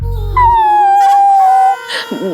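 A dog howls indoors in a house, one long sustained wavering howl that slides downward, loud and close, with a low hum before it and a brief yelp-like whimper at the end.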